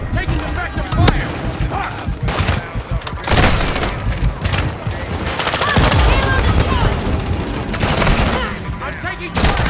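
Rapid gunfire and explosive booms in Call of Duty Modern Warfare II hardpoint multiplayer, loud and dense, with sustained automatic bursts and heavy shotgun blasts.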